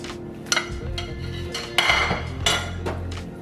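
A metal spoon clinks and scrapes against a pan while gravy made with red wine is ladled over cube steak, with several distinct taps spread irregularly among soft kitchen noise.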